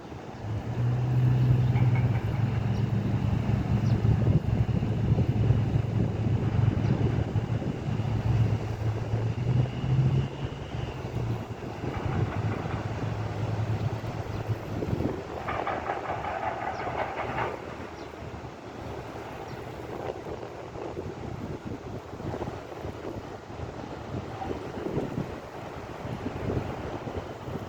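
A large ship's engine running at sea off a beach, heard as a steady low rumbling drone across the whole stretch, heavy wind noise buffeting the microphone, no voices.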